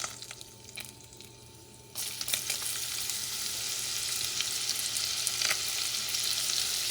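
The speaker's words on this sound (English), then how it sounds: "what I'm going to do first is I'm going to add the onions." Onions dropped into a hot pot over heat a couple notches above medium for a cod soup sofrito burst into a loud sizzle that stays steady and close after a quieter start.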